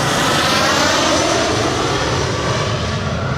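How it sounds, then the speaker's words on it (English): An airplane approaching Farnborough airport gives a loud, steady engine roar that fills the whole stretch without letting up, with no speech over it. "We've actually got a plane coming in."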